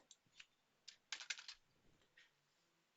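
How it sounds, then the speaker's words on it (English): Close keystrokes on a computer keyboard, typed in short irregular bursts with a quick cluster of clicks in the middle and brief pauses, in a quiet room with no talking. "Let me just type some things here."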